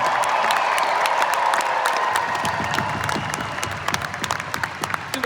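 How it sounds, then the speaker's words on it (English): A concert crowd applauds and cheers for the touring string section at a show in Greenville, a loud dense roar of clapping that gradually thins toward the end, leaving more distinct individual claps. "so give your own strings a huge round of applause"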